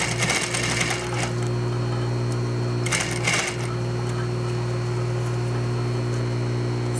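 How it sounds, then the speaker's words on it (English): A sewing machine stitches the side seam of a skirt being taken in, a steady close whirring hum running nearly the whole time, with a brief louder burst partway through and no talking. "And we're going to go ahead and sew it."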